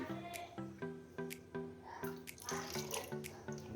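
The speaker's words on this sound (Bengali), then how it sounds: "এখন একটু গোলাপ জল দিয়ে দিই" Rose water glugs from a bottle into pumpkin payesh in a quick string of rhythmic gurgling pulses, faint and close, with no speech.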